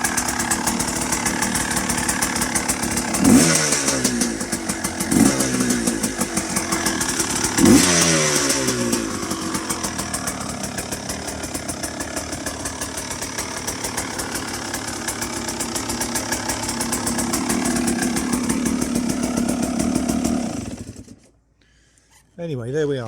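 A 2023 GPX 300 TSE race motorcycle engine fires up quickly, blipping the throttle a few times before settling into a loud, buzzy idle close by, then cutting off abruptly near the end.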